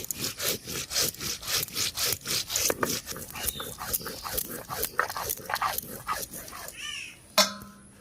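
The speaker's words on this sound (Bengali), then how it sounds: "গোটা জিরাটা আমি বেটে নেব।" Whole cumin seeds are ground on a stone grinding slab in a rhythmic series of rough scraping strokes, about two per second, close up and fairly loud, ending with a brief knock.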